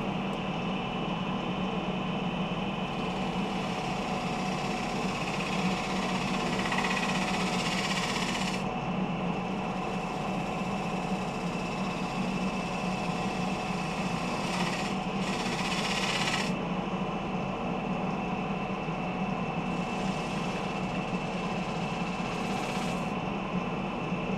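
A wood lathe turns a shallow tenon on the foot of a bowl, giving a steady machine hum with a continuous whirring drone and brief bursts of brighter cutting noise, no talking.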